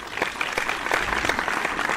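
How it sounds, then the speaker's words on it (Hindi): An indoor audience at an educational conference session claps for guest Kumar Ketkar, a dense, steady burst of applause with no talking over it. "आप कुमार केतकर साहब के लिए ज़ोरदार तालियां बजाएं"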